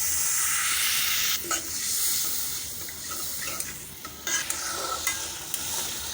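Water is splashed into a pan of frying spice paste of onion, garlic, cumin, turmeric, coriander and chili, giving a loud sizzling hiss broken by several scraping stirs.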